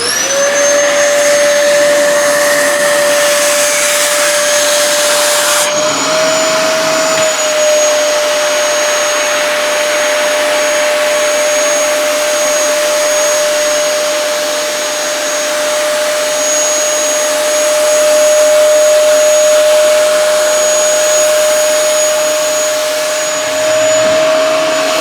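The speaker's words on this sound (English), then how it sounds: "I'm going to put the vacuum on so it's going to get a bit noisy." A vacuum cleaner used to fix scatter on a model railway layout runs continuously at close range, a loud steady whine with a high tone that shifts slightly early on and then holds.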